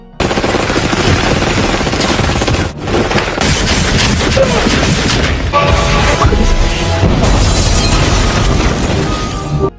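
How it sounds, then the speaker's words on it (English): A film battle scene with loud bursts of machine-gun fire, heavy crashes and a massive explosion, dense and continuous with a brief dip near the start, close and overwhelming. "A massive explosion followed, killing them both."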